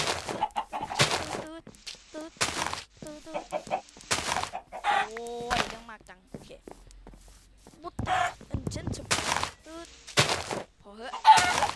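Chickens cluck in the block-building game Minecraft. The clucks come in repeated short bursts and sound fairly close, and they mix with someone talking throughout.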